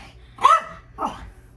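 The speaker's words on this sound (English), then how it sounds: "He just likes to bark" A dog barks twice at close range, two short, sharp woofs about half a second apart in an otherwise quiet room, with no talk.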